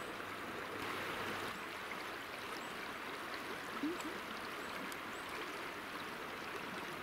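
The Wutach river babbles through its gorge near the Rimmelesteig in autumn, a steady, even rush of flowing water with no voices.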